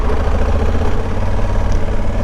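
A motorcycle engine runs loud and close off-road near flamingos in Africa, a steady low throbbing rumble with constant pitch and no voices.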